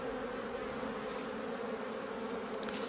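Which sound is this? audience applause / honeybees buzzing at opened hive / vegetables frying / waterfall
honeybees buzzing at opened hive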